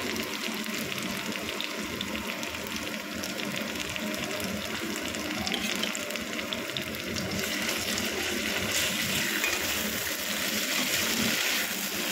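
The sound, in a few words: water poured into pan with chili, ginger and cumin paste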